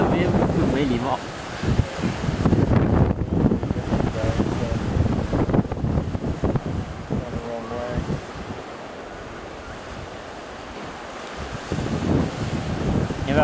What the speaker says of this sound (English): when it's really good, you just get waves just going right across.